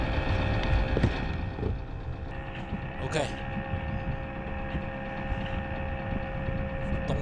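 A sailboat's inboard engine idles on a cold winter day at a Japanese marina, a low, even hum running steadily throughout while someone talks over it.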